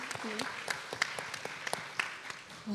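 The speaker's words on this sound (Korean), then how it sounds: "박수 한번 부탁드릴게요" A studio audience claps for a Korean pro gamer at a show about famous K-gamers. The claps are scattered and uneven, and voices talk over them throughout.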